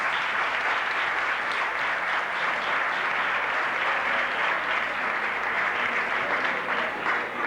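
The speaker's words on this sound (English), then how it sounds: "could we have a round of applause for these young ladies?" An audience at the Jago's Fantasy Princess 1987 pageant applauds the young lady contestants, a steady, dense wash of clapping that holds evenly loud throughout.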